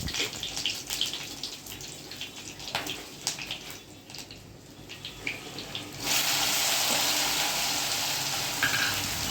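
Dry red chilies and green curry leaves drop into hot oil with cumin for tempering, giving scattered crackles and pops that swell into a loud, dense, steady sizzle, close by with no talk.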